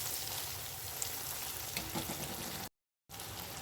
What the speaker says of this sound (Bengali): এটাকে ততক্ষণ পর্যন্ত কষাতে হবে যতক্ষণ না আদা রসুন আর মশলার কাঁচা গন্ধটা চলে যায়